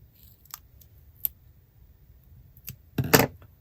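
Scissors snip through a piece of stamped paper card, a couple of faint clicks leading to a short, louder cutting burst near the end in a quiet room.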